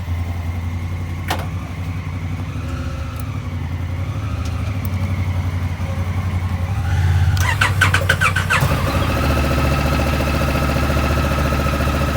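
A motorcycle, a BMW G 310 GS or Honda Africa Twin, sits in a quiet setting until its starter cranks briefly and the engine catches, then settles into a steady, close idle.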